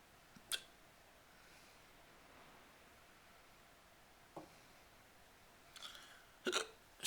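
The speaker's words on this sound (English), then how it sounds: "But I want to get rid of the hiccups." A person with a hernia hiccups several times, with a sharp catch early on, another midway and a couple more near the end. The hiccups sound faint and close in an otherwise quiet room.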